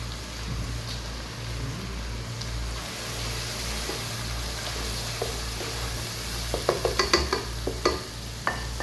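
Spices and mutton trotters frying in a pot give a constant close sizzle with a low hum beneath, then a cluster of sharp stirring clatters and scrapes toward the end.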